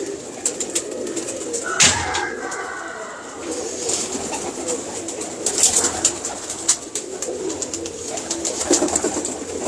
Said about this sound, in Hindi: जी ये इमामदीन कबूतर है।